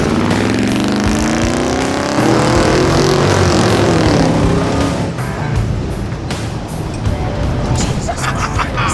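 A 1966 Chevrolet Suburban Carryall engine pulls as the truck drives, loud and close, revving up then settling to a steadier drone, with a voice talking briefly over it.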